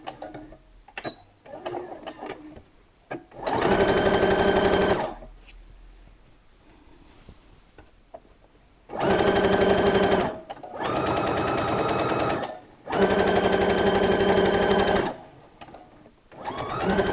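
A sewing machine stitching a summer dress runs in three loud, steady bursts of rapid mechanical whirring, separated by quiet pauses with faint handling noises.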